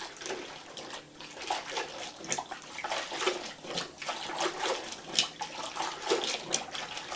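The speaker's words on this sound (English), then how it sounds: "Get the old mop soaked pretty thoroughly" Mop soaking and sloshing in a bucket of pine disinfectant detergent water, with continuous close splashing and dripping and irregular louder swishes throughout.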